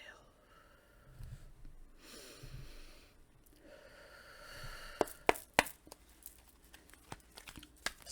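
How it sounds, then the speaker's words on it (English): A slow, deep breath is drawn in during a guided meditation, a soft airy rush lasting a few seconds. It is followed by scattered faint clicks and small sharp taps. "Can you take a deep breath with me?"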